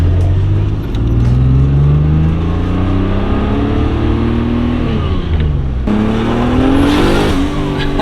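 A BMW E36 wagon with a ZF automatic transmission drives off, its engine loud and close as it revs and climbs through the gears, the pitch rising and then stepping down at each shift.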